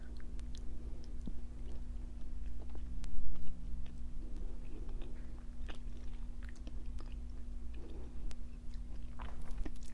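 Crunchy Korean snack chewed close to the microphone, a continuous series of soft crisp bites and crunches in an irregular rhythm over a steady low hum, no speech.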